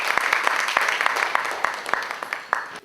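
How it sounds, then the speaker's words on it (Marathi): Audience applause welcoming a guest at a talk event: many hands clapping steadily with a few sharper individual claps standing out, moderately loud and fading slightly toward the end. "त्यांचे आपण टाळ्या वाजवून जोरदार स्वागत करूया."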